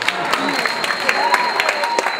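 A student freshers' ball audience claps for a performer on stage, a moderate crowd applause with scattered sharp hand claps over a steady background hum and a faint tonal whine.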